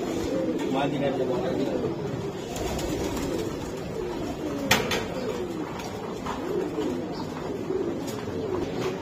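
Racer pigeons coo in a low, continuous murmur against a dense, noisy backdrop, with one sharp knock standing out partway through.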